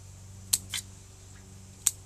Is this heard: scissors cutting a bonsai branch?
yes